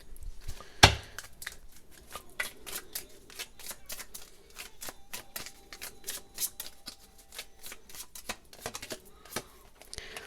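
Tarot cards are shuffled by hand up close, a quick run of crisp riffling flicks and taps with one sharp snap early on, fairly quiet and without talk.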